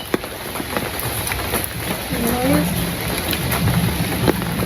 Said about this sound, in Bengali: বৃষ্টি তো আবার ডাব ডাব দিয়েছে।